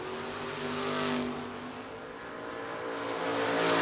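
At a drag strip, a blue Camaro and a Dakota pickup truck roar down the track, dense engine noise swelling and easing then building again, loud and sustained with a high whine on top.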